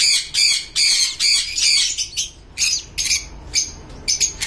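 A small bird squawks harshly in a burst of calls while a ring is fitted to its leg, loud and close, with short gaps between the cries.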